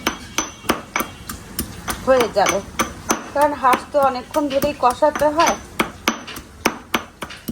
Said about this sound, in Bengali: আদাটাকে একটু এভাবে করে ছেঁচে দিয়ে দিব